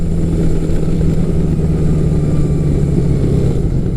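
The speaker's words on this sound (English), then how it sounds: "it just has a different sound with the 4-into-2 custom exhaust on it" A motorcycle engine with a four-into-two custom exhaust idles close by, a loud, steady, throaty exhaust rumble with an even pulse and no talking.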